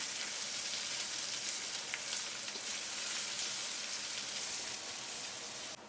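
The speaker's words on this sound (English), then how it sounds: "Add the sliced onions into the pot and fry on high heat for 2 minutes." Sliced onions frying in ghee in a large pot on high heat; a steady, moderately quiet sizzling crackle that continues evenly with no voices.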